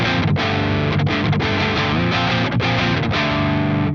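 Electric guitar played through a Fuzz Imp Furia distortion pedal into the distorted channel of a Revv amp, with no delay. Thick, saturated chords ring loud and steady with brief rhythmic breaks between strums.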